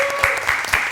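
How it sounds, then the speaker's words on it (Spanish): Studio audience clapping as a guest is welcomed on a talk show about writing, a steady burst of applause filling the whole second with no voices over it. "Un aplauso para ella"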